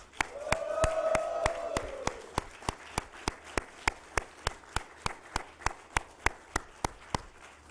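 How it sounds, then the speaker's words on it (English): A group at the Nasdaq bell ringing ceremony for iClick Interactive claps in a steady, evenly spaced rhythm at a moderate distance, with a voice briefly heard near the start. "I think we got to kick this off with a big round of applause."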